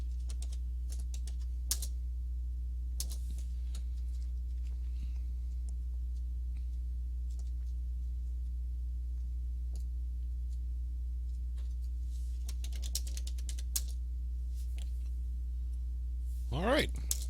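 Keys clatter on an Amiga computer keyboard in short bursts of typing separated by pauses, over a steady low electrical hum, ending with a rising chirp tone.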